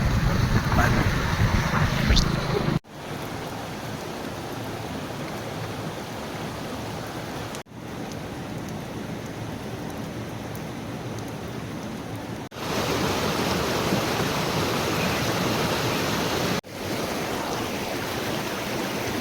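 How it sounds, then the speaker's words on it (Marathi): Steady rushing river water fills the clip, a broad continuous wash in Konkan that holds nearly constant throughout, with a few brief dips and no voices. "तुम्ही आवाज ऐकतच असाल, पाण्याचा बराच आवाज येतोय"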